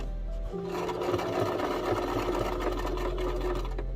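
A sewing machine stitches a zigzag seam on holiday plate mats, a steady close mechanical whir running continuously from the half-second mark to the end, with no talk over it.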